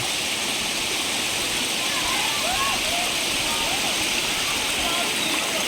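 Clear water runs at the Nam Phut Tat Tao spring in Khon Kaen, a steady, even rush and gurgle of the stream that fills the whole clip without any break.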